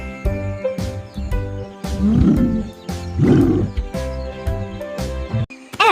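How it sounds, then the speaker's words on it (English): Cartoon lion roars sound over a steady musical backing, two strong roaring bursts rising out of the bouncy, rhythmic children's tune. "L is for lion."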